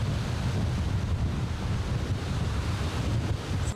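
Ocean surf churns in a continuous broad roar, with wind rushing across the microphone and no distinct breaks or voices.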